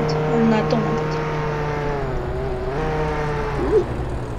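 Video game car engine humming steadily with pitch rising and dipping as it revs, a brief squeal-like blip near the end, while a voice talks over it.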